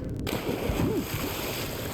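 A splash as the character jumps into water in the Alan Wake video game DLC, a short burst followed by churning, sloshing water under game ambience.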